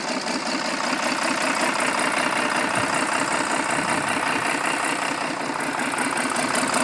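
A Cummins 6BTA 260 JWAC diesel engine runs on test with a loud, steady, close rumble that holds evenly throughout, with no voices.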